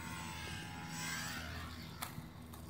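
A small E-flite J-3 Cub UMX radio-controlled plane with flaps and lightened tundra tires flying outdoors, its tiny electric motor giving a steady thin whine with a faint rising tone, fairly distant, and a couple of brief clicks near the end.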